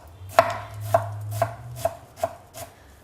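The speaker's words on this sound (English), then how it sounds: "The only thing that takes long with the taboulie is the chopping up." A knife chops vegetables for tabbouleh on a cutting board in six evenly spaced strikes, close and crisp, with no one talking.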